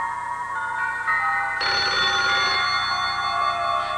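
A telephone rings at a school office with a steady electronic ringing tone, which shifts into a brighter, louder ring partway through and continues alone with no voices.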